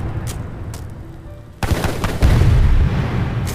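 A sudden heavy blast cuts in, followed by rumbling booms and crackling gunfire-like bursts in a loud, chaotic sequence of explosions in the video game Le Temps des Empires.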